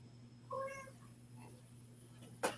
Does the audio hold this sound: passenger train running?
no